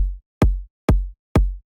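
Four punchy bass house kick drums hit in an even, steady rhythm. Each one has a sharp click attack and a booming low tail, with silence between hits and no voices.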